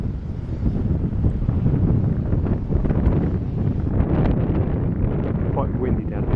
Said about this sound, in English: Quite windy down here though.